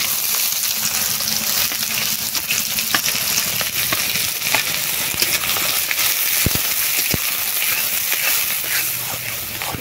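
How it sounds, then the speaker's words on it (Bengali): Finely chopped onion frying in oil in a wok with dried red chillies and bay leaf, a continuous close, loud crackling sizzle, with occasional stirring scrapes and sharp pops. "পেঁয়াজগুলো হালকা ভাজা হয়ে গেছে।"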